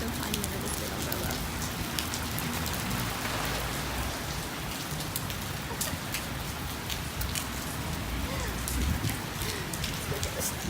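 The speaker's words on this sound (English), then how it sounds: "it just started downpouring" Heavy downpour outside a Barnes & Noble, a dense, steady roar of rain hitting pavement and an umbrella, continuous and close with crisp individual drops spattering throughout.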